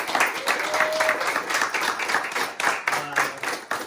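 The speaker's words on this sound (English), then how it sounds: "let us give him an applause so that he can hear it back where he's at" An audience claps for an absent guest, with individual hand claps clearly audible in an uneven, lively rhythm of moderate size and brief faint voices mixed in.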